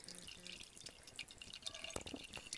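Rendered fat dripping and trickling through a cheesecloth-lined strainer, a close, quiet run of small irregular drips and splashes with no talk.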